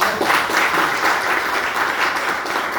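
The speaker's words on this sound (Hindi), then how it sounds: "जोरदार तालियां" Audience at an RCM business meeting in Delhi bursts into loud, sustained applause, a thick, continuous wash of many hands clapping close by with no talking.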